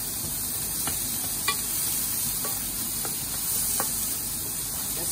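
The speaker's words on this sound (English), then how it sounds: "Just fry up that onion." A pan of onion fries with a soft, steady sizzle, a few light taps and scrapes from stirring standing out now and then, with no voices.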